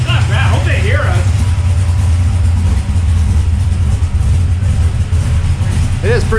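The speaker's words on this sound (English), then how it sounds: "if you guys notice, the exhaust is pretty quiet." A Henry J car engine idles through a Flowmaster exhaust with a low, steady burble close by, as people talk over it.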